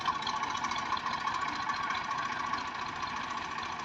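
A Massey 240 tractor, an 84 model fitted with a 54 cutter rotavator in Punjab, Pakistan, idles steadily nearby, holding an even, unbroken hum with no voices.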